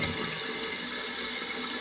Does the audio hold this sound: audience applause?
no